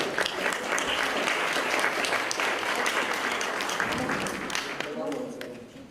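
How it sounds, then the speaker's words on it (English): Sustained audience applause at a literary festival panel as a guest is welcomed onto the stage, dense steady clapping for about five seconds with some voices mixed in, easing slightly at the end. "Under your applause, he will join me on stage."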